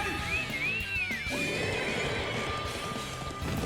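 A horse whinnies loudly with a rising and falling neigh near the start, followed by hoof clatter and a busy background of game-like effects.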